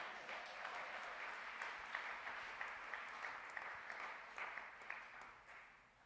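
An audience gives sustained, dense applause in honour of the elders during a French-language church gathering, steady clapping throughout with no speech over it.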